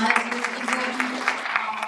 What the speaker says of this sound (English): Last round of applause for candidates.